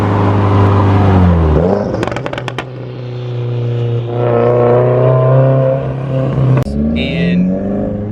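Stage 3 Subaru WRX with a Tomei catless exhaust, revving hard close by, with a run of sharp crackling pops and backfires partway through and more after the engine settles, loud throughout, with some faint talk.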